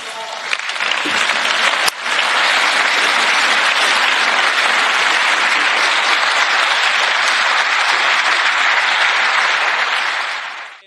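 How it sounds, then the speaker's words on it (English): Thunderous, sustained applause fills the European Parliament chamber in Strasbourg at the Sakharov Prize ceremony, a loud dense wall of clapping that runs on for about ten seconds before cutting off. "Today, there was applause."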